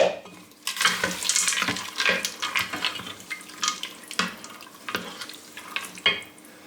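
Green beans and potatoes going into the metal pot of an electric pressure cooker, with sharp clinks, scrapes and rustling clatters in an irregular close-up sequence.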